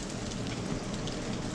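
Steady rain falls outdoors on a rainy day, a dense, even hiss of drops on surfaces with no pauses and no voices.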